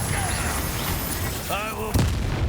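In Hogwarts Legacy, a Confringo blasting spell goes off amid dense, noisy combat, ending in one sharp, loud explosive crack near the end of the clip.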